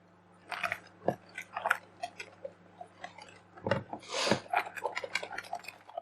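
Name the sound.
whisking chocolate loaf cake batter by hand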